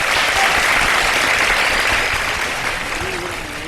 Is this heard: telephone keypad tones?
no